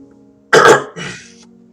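A single harsh cough breaks into a throat-clearing rasp, caused by a bit of dust caught in the throat, close and loud after a quiet moment.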